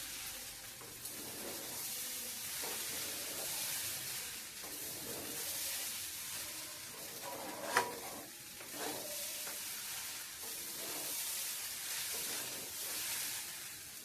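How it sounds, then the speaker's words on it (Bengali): Khichuri with vegetables is stir-fried in a pan, giving a steady close sizzle with scraping and stirring throughout and one sharp clank of utensil on pan partway through. "খিচুড়িটাকে কষিয়ে নেবো"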